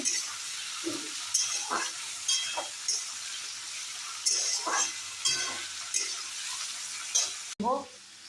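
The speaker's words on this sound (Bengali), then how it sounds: "এবার কাঁচা লঙ্কাগুলো দিয়ে দেব।" Green chillies go into a hot frying pan and sizzle loudly, with steady hissing broken by regular stirring clatters, then an abrupt break followed by a fresh burst of sizzle near the end.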